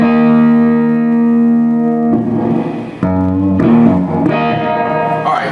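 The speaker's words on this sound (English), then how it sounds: "I've oversaturated a little bit with my digital reverb slab in the front of the amp" An electric guitar rings through an amp with a front-mounted digital reverb slab set too high, sustained chords blurring into a loud, saturated, washy tail.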